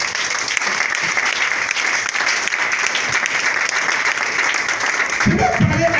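Sustained applause from a church congregation, dense and loud from start to finish, with a voice breaking through near the end.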